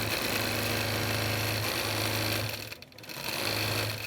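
A sewing machine stitching a fancy pearl quilting pattern on a quilt border, running at a steady mechanical hum with a rapid stitching rhythm that briefly slows and dips near the end before resuming.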